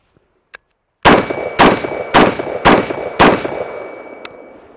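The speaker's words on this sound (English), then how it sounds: "gonna, again, 5 rounds, copper jacketed 55 grain" Five loud rifle shots from 55 grain copper jacketed rounds fired through a SureFire WARCOMP muzzle device, sharp cracks spaced about half a second apart, each with a short ringing decay.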